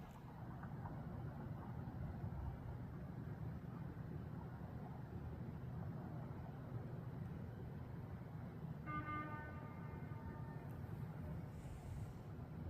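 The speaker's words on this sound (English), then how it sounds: "Don't honk at me." A car horn sounds faintly in the distance over a low, steady background hum, giving a brief tonal honk near the end.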